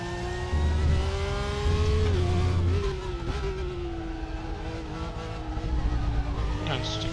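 Porsche race car engine in the RaceRoom racing game, a steady droning whine that rises and dips with throttle and shifts, continuous and close, with faint talk underneath.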